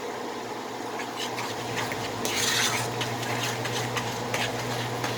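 Sugar gel is stirred into a pot of homemade strawberry preserves, with a utensil repeatedly scraping and clinking against the pot over a soft, wet bubbling, close and steady.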